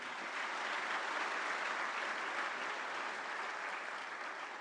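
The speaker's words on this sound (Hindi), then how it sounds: "एक बार जोरदार तालियां हो जाएं।" Sustained applause from a large audience at a government employment-scheme event where the Prime Minister is present, steady and even throughout, heard from a moderate distance with no talk over it.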